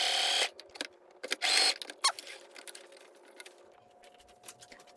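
A sewing machine stitches a side seam on a shiny silk top, giving two short bursts of whirring. Between them and afterward come scattered clicks and handling taps, then quiet.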